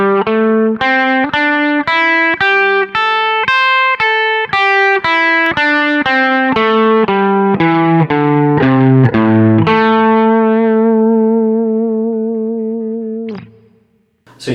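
Distorted electric guitar plays a minor pentatonic scale in the first position, clear single notes climbing and then descending in an even rhythm, ending on a long ringing note that fades out.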